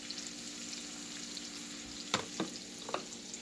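Asian noodle stir fry frying in a pan, a quiet steady sizzle with a few sharp clatters of utensil stirring near the end, no talking.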